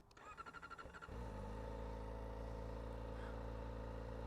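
Kawasaki ZX-4RR sport motorcycle engine starting with a few quick blips, then settling into a loud, steady, close idle rumble that runs without a break.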